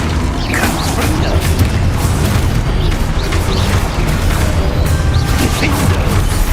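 Fiery Confringo spell blasts in the Hogwarts Legacy video game, a dense run of booming impacts and crashing bursts layered over loud, continuous combat effects and rumble, with no clear speech.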